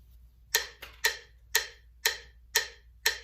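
Sharp, evenly spaced metronome clicks at 120 BPM, about two per second, steady and close with nothing else in the background.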